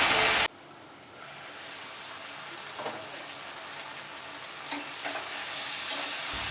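Malabar spinach (pui shak) sizzles steadily in a hot pan as it is stirred, a close, continuous crackle with a few louder scrapes of the spoon.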